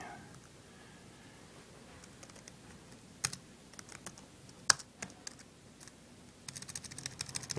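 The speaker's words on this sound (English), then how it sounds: "you can see I'm typing" Key clicks from typing on a ViewSonic G Tablet keyboard case, quiet and irregular at first, then a quicker run of taps near the end, with a few sharper isolated clicks over a soft background.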